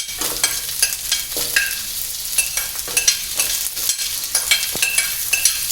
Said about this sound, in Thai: ใส่หัวหอมเลยไปเลยครับ